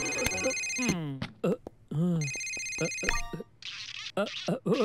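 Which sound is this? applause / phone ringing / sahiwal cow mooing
phone ringing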